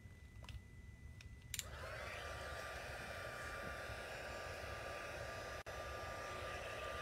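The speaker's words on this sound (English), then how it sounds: "You're going to bring in your heat tool gun, your heat gun. You're going to heat it up." A heat gun switches on after a couple of soft clicks and blows a steady, loud hiss and whir while warming embossing powder for stamping, close by and uninterrupted.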